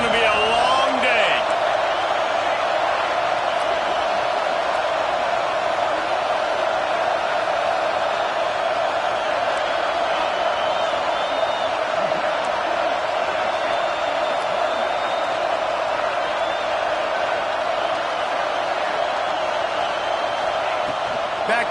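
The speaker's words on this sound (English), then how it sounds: "This crowd, full throat, splitting the eardrums" A packed football stadium crowd roars loudly and constantly, a dense wall of cheering noise that holds steady throughout without a break.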